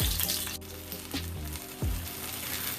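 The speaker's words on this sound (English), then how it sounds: "I'm just going to sear them on every side" Oxtails sear in a hot pan with a sustained sizzle, punctuated by a few low thuds and knocks as the pieces are handled.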